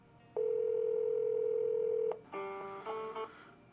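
A landline telephone emits a steady, loud dial tone for about two seconds, followed by a short burst of dialing tones as a number is keyed in, with no voices.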